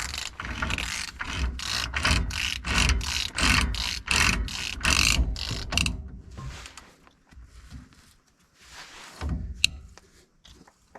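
A hand ratchet clicks rapidly in an even run of about a dozen sharp strokes while tightening a bearing nut on the rear axle of a 1980-1996 Ford F250/F350 pickup, followed by quieter scraping and handling noises.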